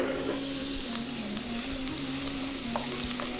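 Garlic and ginger fry in hot oil with a steady, close sizzle and fine crackling hiss that holds even throughout, with no talking.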